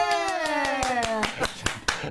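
A small group of interns clapping in a political talk show studio, a few distinct sharp claps in quick rhythm, close by, over a sustained musical tone.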